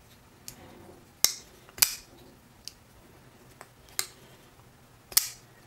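Civivi Scintilla folding knife flipped open repeatedly, giving several sharp metallic clicks and snaps spaced about a second apart, with fainter handling clicks between; close and crisp in a quiet room.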